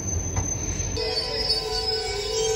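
A train pulls out of Churu Junction with wheels squealing in sustained high metallic tones over a rolling rumble, heard close and steady.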